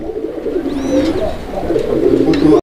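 Fancy pigeons cooing at a pigeon seller's loft, a close, loud run of low throaty coos repeating over a few seconds, with faint chirps behind them.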